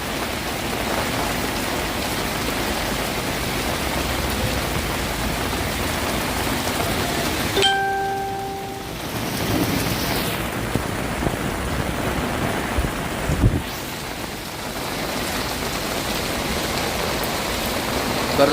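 Heavy unseasonal rain falling in Karjat at dusk, a loud, dense, continuous downpour hiss with a brief dip partway through and some heavier splashing bursts.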